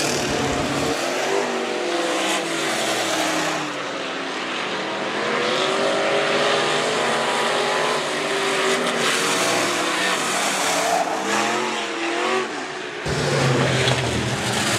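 B-Modified race cars roar around the Rapid Speedway dirt oval, engines revving and sweeping past loudly and continuously with rising and falling pitch, one car surging close near the end, with no talk.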